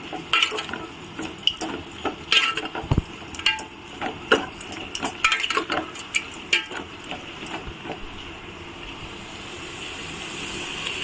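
Green chillies, tomatoes and other ingredients for a tomato pulusu being mixed in a pan, with irregular close metallic scrapes and clinks of a spoon against the vessel over a faint background hum.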